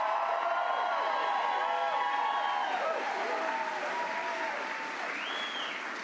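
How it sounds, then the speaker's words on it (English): Audience applause at a live political event in Maine, a dense sustained clapping crowd that holds steady throughout, with some voices mixed into the noise. "So let's give a round of applause to John Featherson and Steve Robinson"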